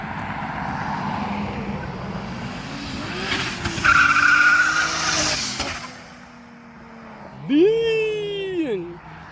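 A Toyota AE86 with a swapped 1JZ engine on a stock ECU spins its wheels on a dyno, engine revving and rising in pitch before easing off and surging again, with loud, close tire and roller whine while people talk.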